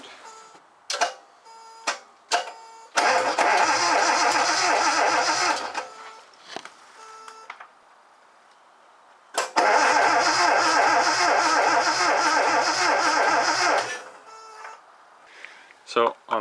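A 50-year-old Japanese car engine, fuel not primed, cranks in two long, loud bursts of whirring, chattering noise separated by quiet gaps with scattered clicks. It never settles into running, and a voice is heard briefly.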